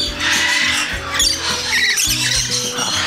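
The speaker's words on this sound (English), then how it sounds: "The last little bird sanctuary here, I'm sure you can hear." Birds squawk in a small bird sanctuary at a monkey and bird park, a loud, close cluster of shrill, overlapping calls and squeals.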